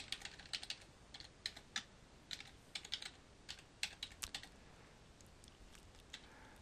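Bursts of typing on a computer keyboard while entering name, email and password to set up an email account in Outlook, quick light key clicks close by, grouped in short runs with brief pauses.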